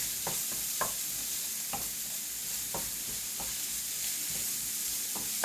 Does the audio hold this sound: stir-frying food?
yes